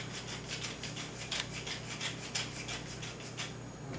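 Coarse pepper ground from a mill onto filet mignon steak, a steady dry rasping crunch with rhythmic bursts from the twisting grinder, close and fairly quiet, with no talking.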